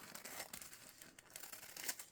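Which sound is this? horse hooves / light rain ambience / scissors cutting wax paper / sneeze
scissors cutting wax paper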